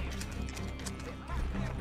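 Horse galloping in the video game Red Dead Online, with steady, rapid hoofbeats that continue throughout at a fairly even level.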